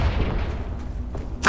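A Confringo blasting spell fired in the Hogwarts Legacy video game bursts loudly and briefly near the end, a sharp close impact rising out of steady low game rumble.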